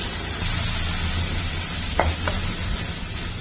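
Finely chopped tomatoes fry with ginger and chilli in a pan, giving a soft, steady sizzle with a couple of brief scraping stirs.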